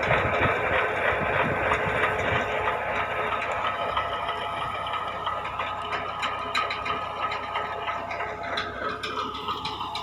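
A tractor engine idles steadily in a potato field in Punjab, a constant, fairly loud droning hum with faint ticking texture and no talking.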